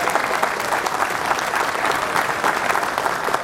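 An audience at a public security event breaks into steady, dense applause to welcome a guest, loud and sustained from start to finish.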